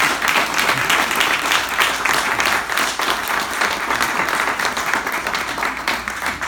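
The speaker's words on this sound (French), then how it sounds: "je vous demanderai d'applaudir mes 2 fidèles amis, les parents de Christian." An audience claps for guests being honoured at a gathering: loud, dense, continuous applause that keeps a steady level throughout with no speech on top.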